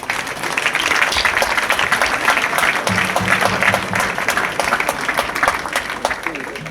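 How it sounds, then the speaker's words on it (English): A large crowd gives the teachers a loud, continuous round of hand-clapping with sharp individual claps standing out, and a low voice murmurs faintly underneath partway through. "I want these people to give a mighty hand clap to the teachers"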